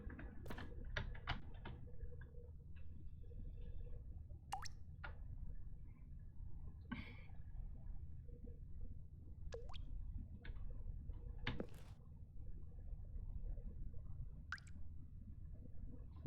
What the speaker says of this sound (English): Dripping? Something's dripping.